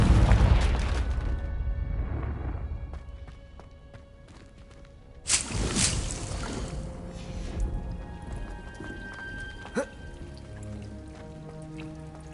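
A Confringo blasting spell goes off in the Hogwarts Legacy video game: a sudden loud burst partway through that decays into crackling debris, with a smaller thump later over a low rumbling game ambience.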